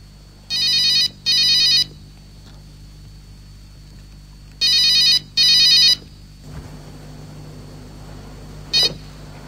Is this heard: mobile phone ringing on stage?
yes